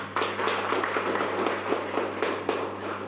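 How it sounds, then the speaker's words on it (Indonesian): An audience at a Ministry of Religious Affairs gathering claps hands together, a dense, steady round of applause from a crowd indoors over a low hum, lasting throughout. "Kita tepuk tangan dulu GTK."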